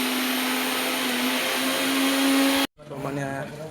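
A kitchen mixer grinder whirs loudly and steadily during Diwali sweet-making, then cuts off abruptly, after which a voice is heard speaking.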